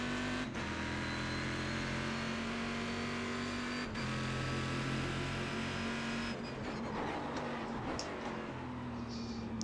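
Race car engine in the iRacing sim, a sustained loud drone with steady harmonic tones and pitch shifts as the revs rise and fall, plus a couple of brief dropouts and rougher, busier engine noise toward the end.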